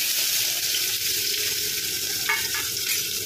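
Cumin, garlic and onion fry in hot oil for pav bhaji, giving a steady dense close sizzle with a couple of brief scrapes near the end and no talking.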